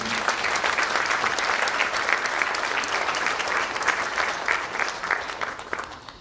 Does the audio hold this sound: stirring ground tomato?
no